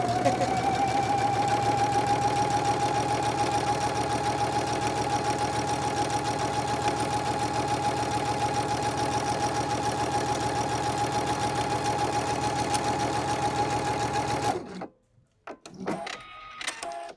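A sewing machine stitching at increased speed, a steady close mechanical whir with a constant hum that runs for about fifteen seconds and then stops abruptly, followed by brief handling noises.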